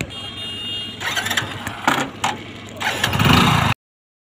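A motorcycle engine starts up and settles into a rough, steady idle at close range, with mechanical clatter and bursts of revving before it cuts off abruptly.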